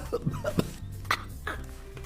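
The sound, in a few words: corgi dog coughing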